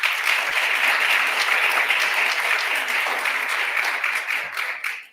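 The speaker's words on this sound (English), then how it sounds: "let's have a big round of applause for Makhi right now." Loud, dense round of applause from a crowd at a Kid Governor inauguration ceremony, continuous and even for several seconds before tapering off abruptly at the end.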